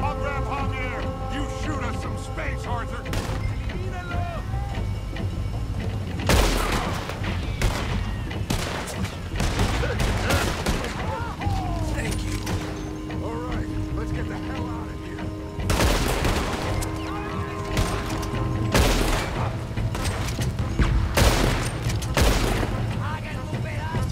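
Repeated gunfire from the Red Dead Redemption 2 video game fort battle: volleys of sharp shots and booms crack throughout, some bursts rapid, over continuous game ambience, with a player's voice speaking at times.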